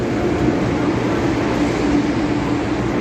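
MTR East Rail Line MLR train in Hong Kong, a steady loud rumble and roar of the train close by, continuous with no breaks.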